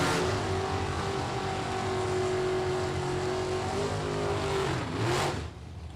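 A drag racing car accelerates down the strip with a loud, sustained engine roar that rises steadily in pitch, then drops away sharply near the end, heard alone.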